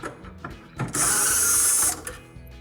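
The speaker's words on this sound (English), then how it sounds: "now we're going to go ahead and remove the 2 screws." A tool removes screws from a Whirlpool refrigerator: a short, close ratcheting whir lasting about a second, with faint clicks and handling noise before and after.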